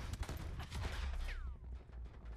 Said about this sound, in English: Three or four different people shooting at me.